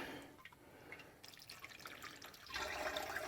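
Water is poured onto plants in a greenhouse, a soft trickling and splashing that runs continuously and grows louder near the end, close but faint.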